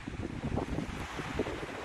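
Atlantic Ocean waves wash in at Angeiras beach in northern Portugal, a steady rushing surf mixed with gusty wind buffeting the microphone, continuous and fairly close, with no voices.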